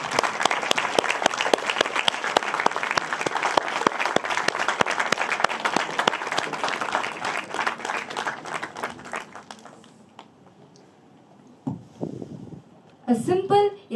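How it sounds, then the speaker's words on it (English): An audience in a college English department hall gives a warm round of applause at a literary forum inauguration. The dense clapping runs steadily for about ten seconds, then fades and is followed by a few brief scattered noises. "I would like the audience to give him a big round of applause"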